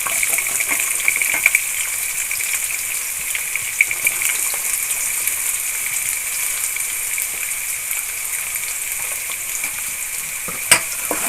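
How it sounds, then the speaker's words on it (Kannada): Onions frying in hot oil for a bitter gourd stir-fry, a continuous bright hiss of sizzling with occasional faint clinks of a utensil, no talking. "ಎಲ್ಲ ಎಣ್ಣೆ ಚೆನ್ನಾಗಿ ಫ್ರೈ ಮಾಡ್ಕೊಳ್ಳೋಣ"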